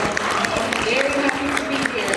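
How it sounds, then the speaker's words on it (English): An audience at a panel gives a continuous round of applause, with voices talking and calling out over the clapping throughout. "If we can get another round of applause for Cristina."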